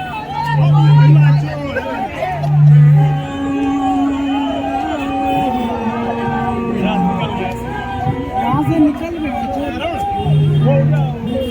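Dense crowd hubbub and chatter at a Jantar Mantar protest in Delhi, many overlapping voices close by with a few loud tonal calls or horn-like bursts rising above the steady din.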